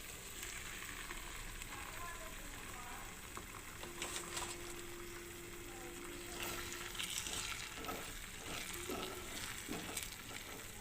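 Cashew and poppy seed paste frying in oil over browned onions in a pan for kaju curry, a continuous close sizzle with occasional stirring scrapes and crackles, and a faint tone in the middle.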